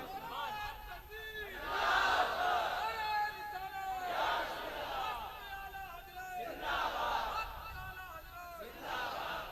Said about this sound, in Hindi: कोई मर्द मुजाहिद नारे तकबीर किस तरह बुलंद कर दे